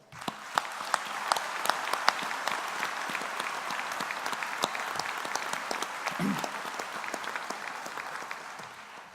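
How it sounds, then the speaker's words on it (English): Sustained applause from a large audience at a university graduation ceremony, many hands clapping together in a dense, even roar that holds steady from start to finish. "I think we should give all my colleagues at the university a round of applause"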